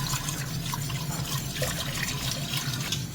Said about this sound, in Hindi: वाटर ऐड करते हैं और विस्क ले लेते हैं और इसे थोड़ा थोड़ा करके विस्क करते रहेंगे ताकि मिल्क जो है वो कोई लम्स ना रह जाए